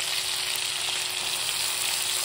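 Whole cumin, ginger, green chili and chopped onion fry in hot oil with a steady, even sizzle that holds close and moderately loud throughout, no voices.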